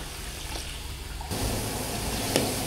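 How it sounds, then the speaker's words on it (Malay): Water is poured into a frying pan of chicken liver being stir-fried with soy sauce, and a soft hiss jumps to a louder, steady rushing sizzle partway through. "Lepas tu kita buat air masuk."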